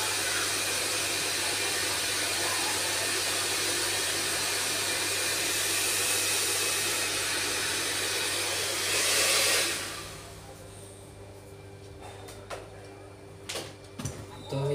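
Hair dryer blows steadily as hair is styled with a round brush in a salon, a loud close roar for about nine seconds that then shuts off, leaving faint room noises and light knocks.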